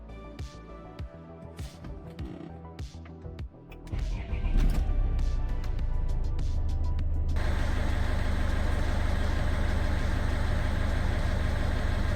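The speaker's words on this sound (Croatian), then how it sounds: "Zatim vraćam osigurač i startujem motor." A Peugeot 406 Coupe 2.2 HDI diesel is cranked, catches and settles into a steady, close idle that grows louder and fuller a few seconds in, continuing without talk.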